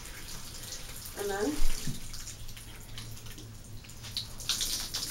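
Water from a shower runs into a tub and drains as hand-washed clothes are rinsed, a steady close splashing flow with a few gurgles and sloshes, while someone briefly speaks.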